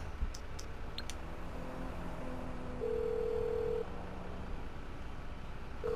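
In the video game GTA 5, a player calls in a monster truck vehicle on the in-game phone, and faint steady ringing beeps sound twice over a constant noisy background.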